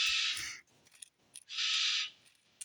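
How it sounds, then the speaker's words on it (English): Two loud, sustained bird calls, each about half a second long, ring out close by indoors with brief quiet between them and faint rustling underneath. "And there's the bird, because it heard something fall."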